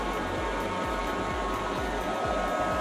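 Shark Ion R76 robot vacuum running across lumpy, unstretched carpet, giving a steady close-up whirring hum with a faint rhythmic low thumping underneath throughout.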